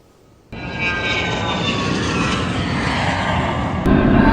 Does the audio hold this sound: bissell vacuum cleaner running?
no